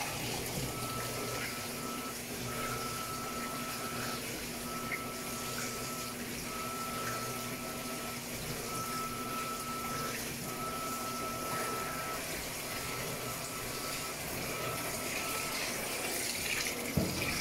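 Electrolux LEC14 washing machine agitating clothes during a rinse soak, a steady wash of sloshing water with a low mechanical hum, continuous and close throughout.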